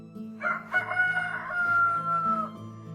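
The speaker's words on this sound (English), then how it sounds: "The cockerel with his brood at the gate that woke me early mornings with his confident, loud crowing." A cockerel at a farm gate gives a loud, confident crow, one sustained call rising and holding before trailing off, close by with a faint low rumble behind it.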